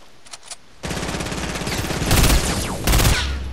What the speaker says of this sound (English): I got a shot off on him.